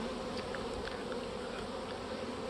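Honey bees buzz steadily around a hive in a beekeeping yard during queen rearing and nuc preparation, a dense continuous hum with no voices.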